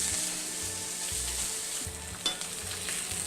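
Sockeye salmon fillets sizzling in hot oil in a pan, a loud steady close frying hiss with spitting crackles and a brief sharp pop partway through, with no talking.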